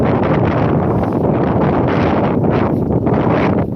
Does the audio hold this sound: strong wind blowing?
yes